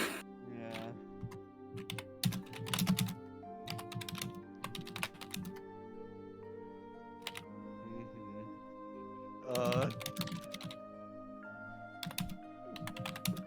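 Frantic, rapid typing on a computer keyboard, dense clattering keystrokes with short pauses and heavier bursts, heard close over a steady background hum and music.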